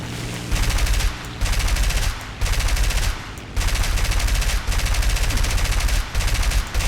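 Aircraft machine guns in War Thunder fire in repeated long bursts, loud and close, with short gaps between volleys over a constant engine drone and no talking.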